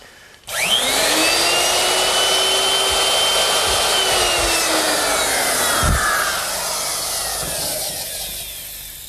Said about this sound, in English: Now the router is set up with a 1/2-inch straight cutting bit